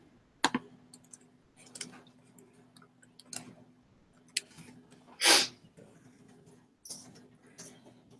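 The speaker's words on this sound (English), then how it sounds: "still hear keys." Sparse clicks of computer keyboard keys tapped at a live event, quiet scattered keystrokes over a faint steady hum, with a few louder bursts including one sharp noisy burst midway.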